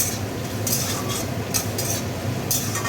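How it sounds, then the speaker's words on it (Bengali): A utensil scrapes and clinks against a pan while vegetable manchurian is stirred over a low gas flame, giving soft repeated strokes over a steady background hiss. "হালকা হালকা নাড়তে থাকবেন, গ্যাসের ফ্লেম কমই করা আছে।"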